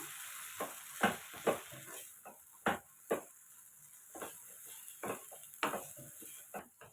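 Spoon stirring chili powder through grated raw mango pickle in a bowl, giving scattered scraping and tapping strokes at an irregular pace, close and fairly quiet, with no one talking.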